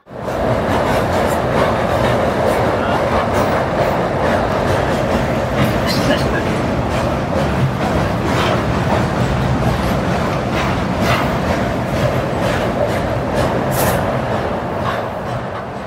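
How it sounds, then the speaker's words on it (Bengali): The 13009 Doon Express stands at Pandit Deen Dayal Upadhyaya Junction, and the station gives off a steady, loud rumble and hum of rail noise that runs unbroken for the whole stretch. "একটু আগেই এসে পৌঁছালো। তো এখানে 10 মিনিট মতন দাঁড়াবে, তারপরেই ছাড়বে আমাদের ট্রেন।"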